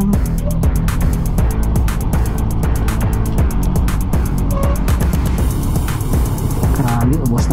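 Yamaha Mio 125i scooter engine revved hard at full RPM, a loud, close, continuous roar that holds steady throughout without pause.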